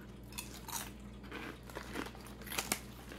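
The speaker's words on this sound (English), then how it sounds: "It's a nice sweet peanut butter snack that's got a really good crunch to it." Someone eating a sweet, crunchy Korean peanut butter snack, with several close crisp bites and chewing crunches, soft and irregular, over a low steady background hum.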